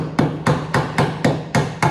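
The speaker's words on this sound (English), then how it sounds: "Let me get a hammer real quick so I can get some real tappage." A little hammer strikes the handle of an old screwdriver eight times in an even, quick rhythm, each tap a sharp, close metallic knock with a brief ringing tail.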